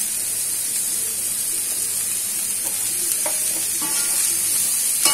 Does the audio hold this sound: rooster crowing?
no